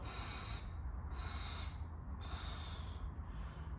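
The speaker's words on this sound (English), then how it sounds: "Short inhale, 3 exhales." A breathing technique of a short inhale followed by three exhales, heard as repeated breathy bursts in a steady rhythm, close and fairly faint with no talking.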